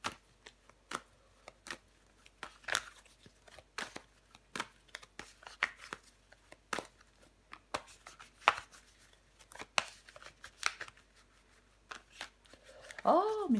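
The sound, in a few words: tarot cards being laid out and handled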